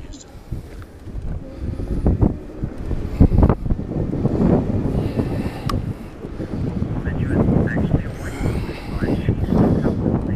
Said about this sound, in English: Wind is a perennial problem around here.